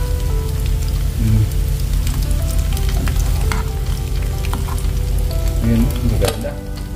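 Fish frying in hot cooking oil, a loud, dense and continuous sizzle that crackles steadily up close without pause, with a few brief clinks near the end and no talk over it.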